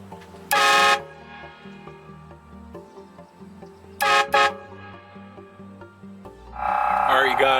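eBay train horns installed on a Cummins pickup truck blast in two loud, close bursts of about half a second each, with a third sustained blare starting near the end, over low idle and background noise.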